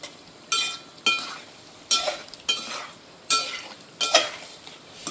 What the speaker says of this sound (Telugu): సో ఇప్పుడు కొంచెం కలుపుకుందాము